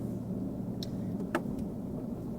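A car driving along, its steady low road and engine rumble running throughout, with a couple of brief clicks and a short creak on top.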